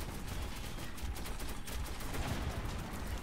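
Sustained machine-gun fire in the shooter game Metro, a dense, continuous rattle of rapid shots aimed at Nazi enemies, loud and close with no pauses across the burst.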